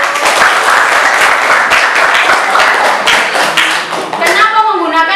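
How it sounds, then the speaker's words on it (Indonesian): Close, loud applause from a classroom audience for a student during a teaching practice lesson, brisk rapid clapping that holds steady, ending as a voice begins speaking. "Tepuk tangan untuk Mas Hoirul"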